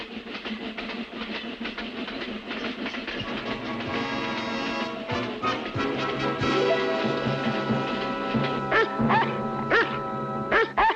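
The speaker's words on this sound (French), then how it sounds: "pourquoi tu aboies?" Sharp, repeated dog barks ring out over the rhythmic rumble and clatter of a moving train, growing more frequent toward the end.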